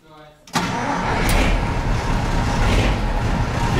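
ZIL-131 military truck fitted with a MAN V8 engine cranks and fires up after a moment of quiet, then settles into a loud, steady rumbling idle close by.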